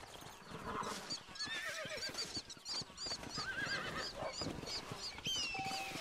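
A horse in the video game Red Dead Redemption neighs and whinnies repeatedly over clip-clopping hooves, with bright, warbling calls rising above a busy in-game background.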